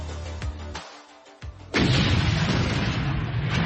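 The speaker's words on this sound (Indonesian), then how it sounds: "menimbulkan ledakan energi spiritual yang menghancurkan area di sekitar mereka" A sudden, loud explosion sound effect erupts after a moment of quieter rumbling, then holds as a broad, sustained roar that fills the rest of the clip with no voices.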